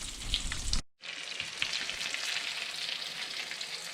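Walleye fillets sizzle and crackle steadily in a hot frying pan, with a brief cut-out early on before the loud, continuous frying resumes close up.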